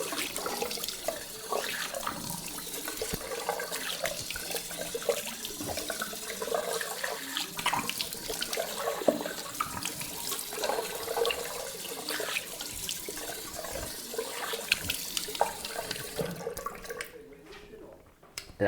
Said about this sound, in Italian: tanto mi sciacquo con l'acqua fredda